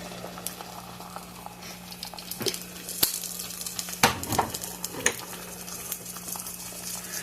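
Browning butter sizzles and bubbles in a hot pan on a burner, a continuous crackling hiss broken by several sharp utensil clinks and scrapes against the pan.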